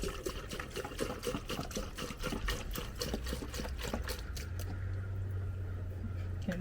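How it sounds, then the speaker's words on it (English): Water pours through a funnel into an RV's fresh water tank, a steady trickling, splashing flow that runs close and continuous, later settling into a smoother fill with a low hum beneath. "we're filling up the other half of the tank because we want the tank full"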